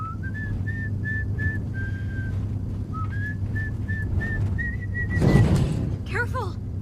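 A man on a television show whistles a simple tune in clear sustained notes with brief breaks over a low rumbling vehicle background, then a short burst of noise and a quick warbling run of notes at the end.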